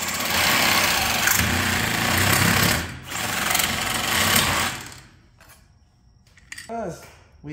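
A power tool makes a rough cut on parts for a 36V ebike build, a loud buzzing, rattling drone that cuts off after about five seconds, followed by quieter clinks and a brief voice.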